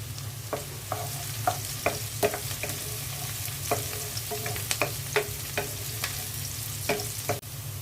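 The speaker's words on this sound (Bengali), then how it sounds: "পেঁয়াজটা হালকা ভেজে নিলাম" Onions and green chilies sizzle steadily in hot oil in a Bengali home kitchen, with a spatula scraping and clicking at irregular beats over the constant frying hiss. No one speaks.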